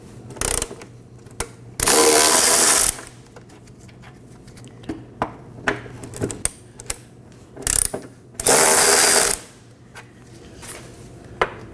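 Ratchet wrench breaking loose 13mm bolts on the fuel tank strap brackets of a 2015-2023 Nissan Maxima 3.5L V6, with two long loud ratcheting bursts and scattered clicks and clanks between them, no talking.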